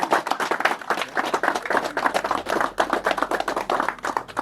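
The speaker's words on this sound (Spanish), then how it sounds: "aplauso para los músicos" An audience applauds musicians at a chimaycha pukllaycha celebration of Aucara in Barrios Altos, Lima. The clapping is dense, brisk and close, with many hands striking irregularly and steadily throughout, and no talk.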